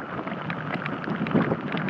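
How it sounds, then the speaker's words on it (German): Heavy rain pours down on a touring cyclist riding a muddy mountain pass in Georgia, a steady, dense hiss of drops and wind noise that continues without a break. "Es regnet in Strömen."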